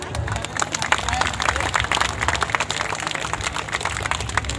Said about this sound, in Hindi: जोर जोर से ताली बजाएंगे।